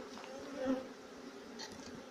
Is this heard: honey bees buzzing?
yes